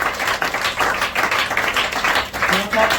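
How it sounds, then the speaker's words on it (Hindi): An audience at a student award ceremony gives a round of hearty clapping, close and lively in uneven surges, while people talk over it. "जोरदार तालियां हो जाए"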